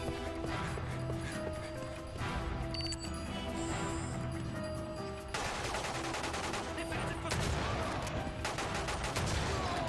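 Gunfire from the Xbox 360 game 007: Quantum of Solace rattles in dense repeated bursts for the whole stretch, with a busy game soundtrack underneath and a sharper, fuller volley of shots in the second half.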